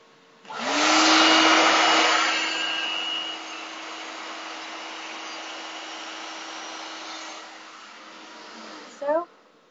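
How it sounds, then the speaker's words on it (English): A hair dryer blows on hair with a steady, loud whoosh that starts abruptly, eases slightly after a few seconds, then cuts off near the end, close to the microphone with no talking. "that's how I blow dry that section of my hair"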